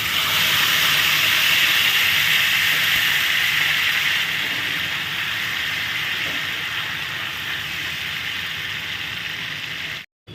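Ginger, green chili, melon seed, cashew and raisin paste frying over low flame in a pan, a loud continuous sizzling hiss that holds steady for about ten seconds before cutting off abruptly.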